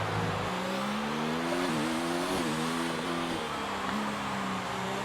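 An F1 car engine in the F1 2019 game at Mexico, screaming at high revs with several quick gear shifts that drop and climb the pitch in a continuous, loud run.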